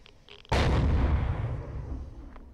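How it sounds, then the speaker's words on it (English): A C4 charge detonates against an alien core in the game Empyrion Galactic Survival, a single loud close blast that bursts in suddenly and rumbles away slowly over a couple of seconds, with no talk. "try to blow the core up with the C4 on these alien things"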